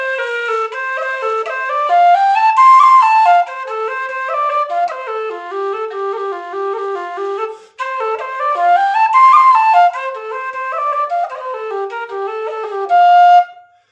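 Tin whistle playing an Irish tune, a solo melody of quick ornamented notes that runs continuously and loud, with a brief break midway before the part repeats.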